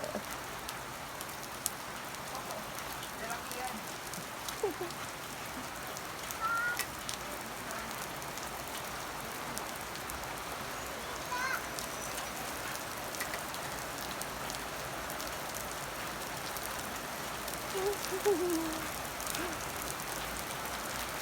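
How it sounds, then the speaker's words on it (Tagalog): Steady rainfall patters on surfaces outdoors, a soft continuous hiss with scattered drops and faint occasional bird calls, moderately distant and quiet, no voices. "Rain, rain. Ganda rin yan. Oh, rain, rain, go away."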